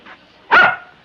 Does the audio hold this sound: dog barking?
yes